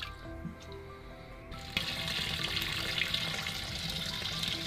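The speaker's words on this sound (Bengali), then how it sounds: "তো আমি আপাতত 3 বার ধুয়ে তারপর রেখে দিব।" Running water pours steadily from a tap while fish are rinsed in a home kitchen, a quieter moment first, then a sustained wash of water, close and alone without talk.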